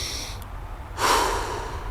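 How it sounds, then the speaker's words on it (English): A deep diaphragmatic breath, part of a baseball pitcher's pre-pitch routine, rises suddenly as a loud, airy rush after a quieter stretch and holds steady to the end over low background noise. "You practice this diaphragmatic breathing"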